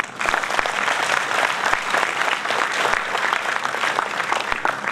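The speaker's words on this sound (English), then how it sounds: "a round of applause for them" Audience applause at a guest session in a hall, steady dense clapping from many hands held at an even level throughout.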